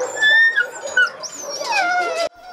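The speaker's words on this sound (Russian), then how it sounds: "Целый день здесь стоит невообразимый лай." Dogs at a remote rural dog shelter yelp and whimper in high, wavering cries that rise and fall close by, continuous for a couple of seconds before a brief cut and more whining.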